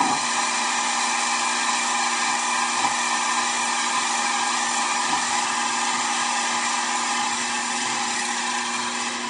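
Continuous hand sanding of a melamine face with 120 grit sandpaper glued to a block, a steady close-up abrasive hiss with no pauses and no voices.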